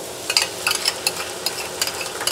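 Onions sautéing in a pan for an egg caldereta, a close, light sizzle with quick stirring scrapes and soft clicks of a utensil over a few seconds, no voices.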